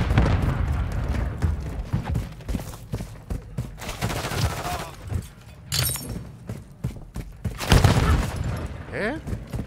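Heavy gunfire in the video game Call of Duty: Modern Warfare III, dense volleys of shots and impacts with booming hits and a shatter, loud and continuous, with a voice talking over parts of it.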